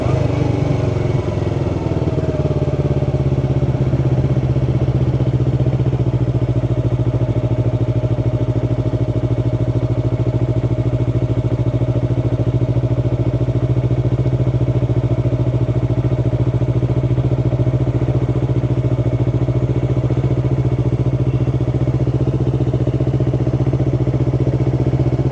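A Yamaha R3 motorcycle engine runs steadily for the whole stretch, a loud, close, continuous hum with a settled idle-like drone and faint mechanical clatter, no voices over it.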